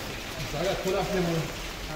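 Heavy monsoon rain pours steadily at a flooded temple in Aundha Nagnath, Hingoli district, a continuous hiss with a faint voice murmuring underneath.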